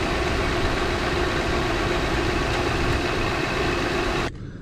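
A car or truck engine idles steadily while its alternator charges the battery, a loud, even hum at close range that runs for about four seconds and then cuts off abruptly.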